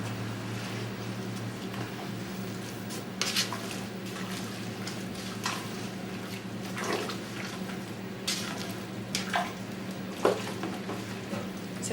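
A squash, apricot and almond chutney with turmeric bubbles and simmers in a pan, giving a soft, continuous hissing and bubbling with occasional louder pops and stirring sounds, steady and close, without talking.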